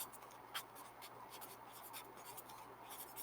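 A pen scratches on paper in short strokes, close and quiet, with a light rhythmic scratching of handwriting.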